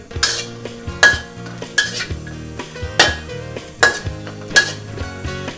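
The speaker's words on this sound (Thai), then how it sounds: "เราไม่ใส่น้ำมัน เป็นแบบแห้งๆเลย เสมือนกับการย่าง แต่เราใช้เป็นกระทะคั่วเอา" Young green chilies dry-roasted in a pan without oil, stirred with a utensil in a rhythmic series of about seven loud scrapes and metallic clinks against the pan, with a soft tonal background underneath.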